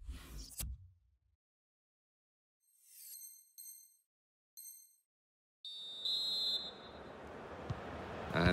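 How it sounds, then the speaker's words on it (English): A referee's whistle starts the second half of a football match: after a near-silent stretch with a few short electronic beeps, a single bright sustained blast sounds over the sudden rush of stadium crowd noise. "the referee's blown his whistle, and we're off for the second half"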